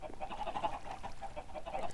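Chickens in the video game Minecraft, a dense, overlapping run of honking, goose-like clucks and squawks that continues through the whole stretch at moderate volume.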